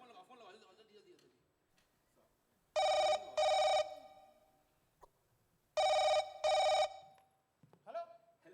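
A landline telephone rings in two double-burst pairs, loud and close, in a Hindi comedy sketch about calling an officer. Quieter voices and murmurs fill the gaps before, between and after the rings.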